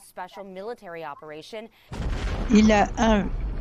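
Explosions in war footage from Ukraine during the Russian invasion, a dense, loud, low rumbling blast layer taking over in the second half after clear speech, with bright burst peaks near the end.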